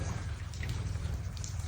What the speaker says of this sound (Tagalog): Actually lalabs ilang araw na bumubuhos yung ulan.